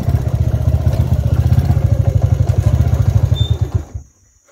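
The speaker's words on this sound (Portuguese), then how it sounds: "A moto vem até aqui na barranca aqui" A motorcycle engine chugs steadily and loudly at close range, its rapid pulsing beat running for about four seconds before cutting off abruptly.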